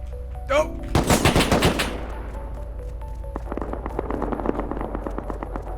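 Gunfire in a video game firefight: a dense burst of rapid shots up close, then a longer stretch of scattered, more distant cracks and rattling bursts continuing in the background.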